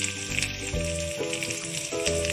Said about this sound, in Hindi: इसमें मैं डालूंगी थोड़ा सा धनिया पत्ता